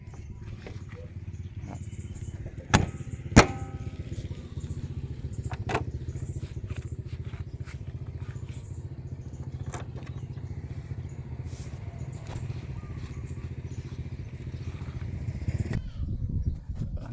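An original, never-opened Honda Wave 100 motorcycle engine idling steadily with a soft, even low hum, plus occasional light clicks and clatter nearby.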